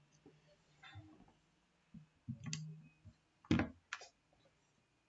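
Computer mouse clicks sound as sharp, quiet, isolated ticks, several scattered over a few seconds along with faint handling noise in a quiet room.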